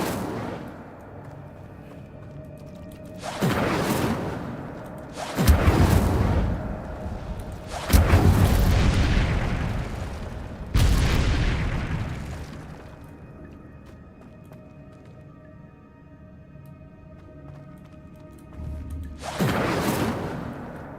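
Incendio fire spell blasts in Hogwarts Legacy, five separate deep whooshing booms spaced a few seconds apart, each swelling and fading, loud against quiet game ambience.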